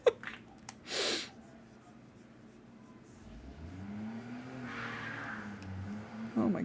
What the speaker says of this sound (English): someone is speeding through. I can hear their car.